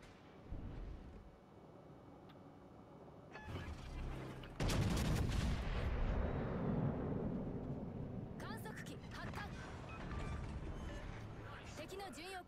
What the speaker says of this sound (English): Shell's going downrange, from what I'm seeing.